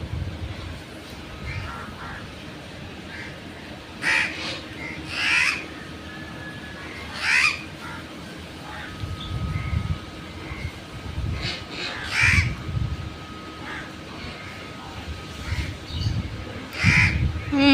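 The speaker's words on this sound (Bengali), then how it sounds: "হাসে পাশে পাশে পাখির ডাক" Crows caw repeatedly from nearby trees in a rural village during afternoon rain, with other birds calling in between; the caws come in separate bursts over a steady wet hiss.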